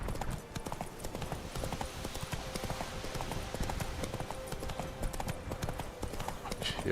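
Horse hooves clop steadily along a road in The Witcher 3 video game, a fast, continuous rhythm of close hoof strikes over a constant bed of ambient noise, with no voice.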